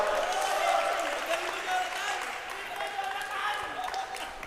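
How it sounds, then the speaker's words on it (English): A crowd at the Grand Asia Open tournament in Manila, Philippines claps for the second-place finalist, a moderate, continuous patter of applause mixed with cheering and chatter from the audience. "let's give him a round of applause"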